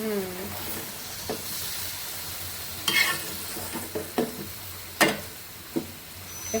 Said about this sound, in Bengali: এই যে তরকারিটা দিয়ে দিছি চুলায়। দেখেন কষিয়ে নিয়ে আমরা